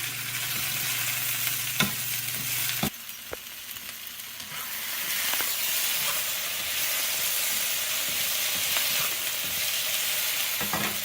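Peppers and onions fry on fairly high heat in a pan while being flipped around, a loud, continuous close sizzle with brief stirring scrapes and knocks breaking through.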